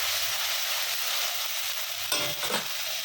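Spice paste of ginger, green chili, cumin and tomato sizzles and fries steadily in a pan, with a couple of brief stirring scrapes near the end.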